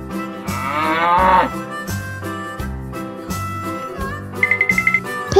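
A cow moos loudly over music on a farm-animal sounds track, several drawn-out low calls in a row, no talking.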